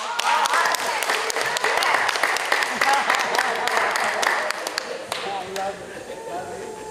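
Audience applause after children introduce themselves at a youth genealogy summit in Delaware, dense clapping that fades a little toward the end, with voices mixed in.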